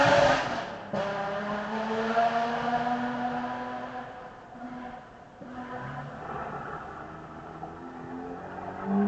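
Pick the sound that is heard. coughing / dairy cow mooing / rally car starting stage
rally car starting stage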